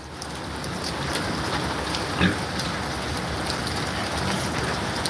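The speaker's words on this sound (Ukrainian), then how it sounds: "дощ ще більше ускорився." Heavy rain drums down steadily near a shed, a loud, even wash of downpour with a brief louder splash midway and no voices.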